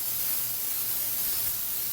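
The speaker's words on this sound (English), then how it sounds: "And I'm just gonna spray my pan" Cooking spray hisses from a can onto a pan in a home kitchen, one continuous close, bright spray burst lasting about two seconds with no talking.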